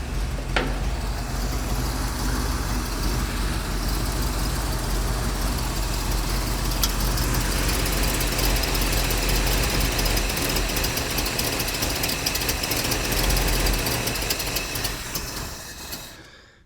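A 1956 Buick Century engine idles loudly and steadily nearby with a rough, even rumble, running continuously before fading out at the very end.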